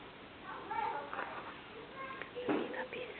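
A house cat gives a few short, soft meows between stretches of quiet murmuring speech, heard close up in a home, with the sounds spread unevenly over a few seconds.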